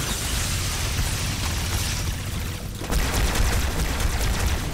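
Thrown grenade blast in the shooter game Halo 2 Anniversary, a loud sustained rumble of explosive noise that briefly dips and then surges again into a dense burst of booms and crackling debris.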